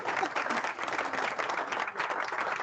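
Steady burst of crowd applause from a sound-effect button, dense clapping at even loudness throughout with no voices over it.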